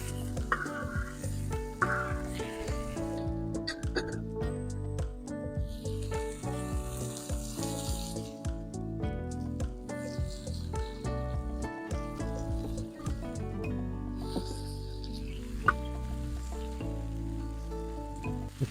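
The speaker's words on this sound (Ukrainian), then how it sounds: "Картопля маслом покрилася, хай вона далі смажеться." Potatoes and lamb fry in oil on a sadzh pan, giving a steady, close sizzle and crackle that runs without a break the whole time, with no talk over it.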